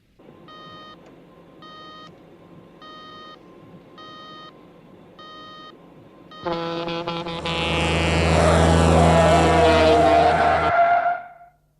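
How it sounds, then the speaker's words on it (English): An emergency alarm beeps in a steady, evenly spaced pattern of short electronic tones, then gives way to a loud, rising roar that cuts off abruptly. "I've got an E-alarm."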